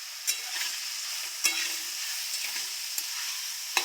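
Potatoes and onion frying in oil, a steady broad sizzle with a few sharp scraping clicks of a spatula stirring the pan at intervals, no talking.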